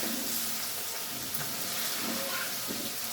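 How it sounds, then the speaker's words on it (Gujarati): Garlic paste sautéing in a pan: a dense, steady hiss of frying that holds level throughout, close up, with faint stirring scrapes and no talk. "લસણની પેસ્ટને સાસરી લેશું સારી રીતે"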